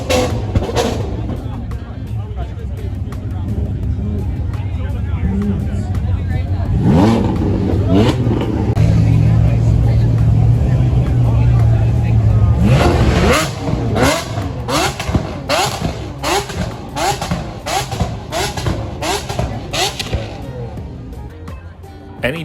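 A purple Lamborghini Aventador at a cars and coffee meet idles loudly, then revs hard in repeated sharp bursts, close by, with crowd chatter in the background.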